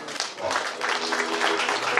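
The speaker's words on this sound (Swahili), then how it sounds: "Pigie Yesu makofi" Church congregation at a Swahili service clapping together, a brief burst of many hands with voices mixed in.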